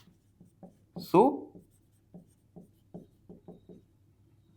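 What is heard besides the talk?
writing solution by hand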